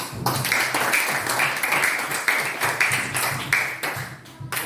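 Hands clap in a classroom, a rapid stream of bright, overlapping claps at close range that keeps going steadily for several seconds.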